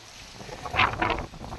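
Strong wind gusts buffet the microphone on open, sunbaked farmland beside a parked tractor, a steady rushing roar that surges loudly midway and then eases, with no voices.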